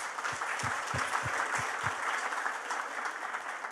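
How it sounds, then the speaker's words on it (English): A live audience at a UN dialogue event applauds in a steady, moderately loud wash of clapping that holds for the whole stretch, with a few low thumps near the start. "Can you please give yourselves a big round of applause?"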